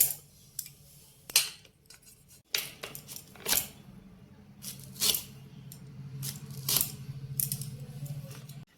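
A knife chops hard raw mango into small pickle pieces on a board, giving irregular sharp tapping strikes close by with a low steady hum behind them.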